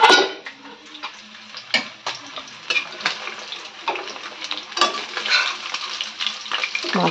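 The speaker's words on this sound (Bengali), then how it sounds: "এই মাছগুলো কিন্তু একদম কড়া করে ভাজবো না," Pieces of aar fish frying in a pan, a close crackling sizzle broken by repeated clinks and scrapes of a utensil against the pan, no talking.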